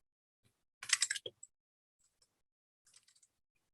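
Short bursts of typing on a computer keyboard while entering a name as a text annotation, a quick cluster of clicks followed by a fainter second flurry, close and alone in a quiet room.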